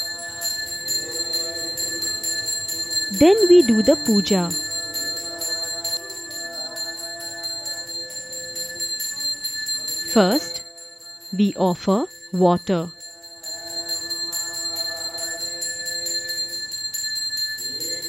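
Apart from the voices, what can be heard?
hand bell rung during Hindu puja worship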